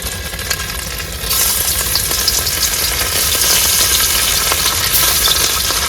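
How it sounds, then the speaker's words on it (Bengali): River fish coated in turmeric fry in oil in a pan, a steady close crackling sizzle that jumps louder after a second and keeps hissing strongly. "প্রথম খোলের মাছ ভাজা কিন্তু আমাদের কমপ্লিট হয়ে গেছে"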